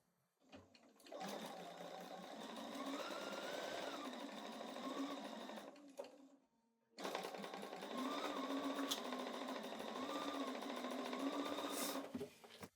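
Quilt pieces for a star block run through a sewing machine in two close, steady bursts of fast stitching, separated by a short pause, with no talking.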